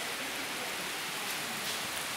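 Heavy rain pouring down in a steady, dense hiss with no pauses, close and even throughout a short stretch, no voices.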